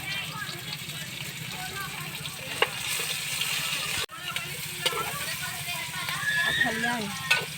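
Onions sizzling and frying in a pan, a steady close hiss with occasional stirring scrapes, under talk in Filipino throughout.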